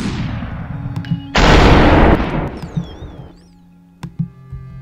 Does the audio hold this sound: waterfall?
no